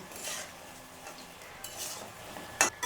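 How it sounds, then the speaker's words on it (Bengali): Paneer pakoras being turned and fried in a pan, with quiet stirring scrapes and light utensil clinks over a faint sizzle, ending in a sharp metallic tap. "পকোড়াগুলো উল্টিয়ে দেব। একটু লাল লাল করে ভাজবো"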